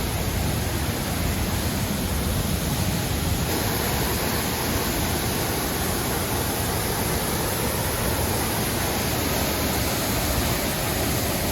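A waterfall on a Slovak hiking trail reached by long flights of steps, a steady, loud, broadband roar of falling water that stays constant throughout, with no voices.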